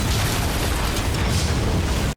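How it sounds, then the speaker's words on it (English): A big explosion from The Falcon and The Winter Soldier, episode 3: a dense, sustained roaring blast that fills the whole two seconds at full loudness, then cuts off abruptly. "Big explosion and they just emerge fine"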